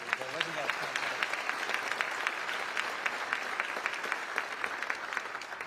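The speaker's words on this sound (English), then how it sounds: "give one more round of applause for that wonderful music we had" An audience at the Akron mayoral swearing-in ceremony applauds steadily, a dense, even patter of many hands clapping at moderate distance that continues throughout.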